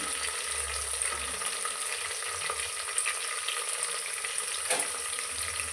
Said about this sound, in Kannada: ಈಗ ಈರುಳ್ಳಿ ಹಾಕ್ತಾ ಇದ್ದೀನಿ